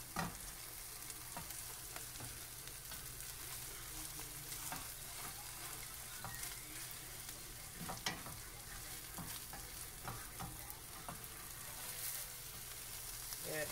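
Spinach omelette eggs sizzle steadily in a pan, a close, continuous frying hiss with occasional sharper clicks and scrapes from flipping.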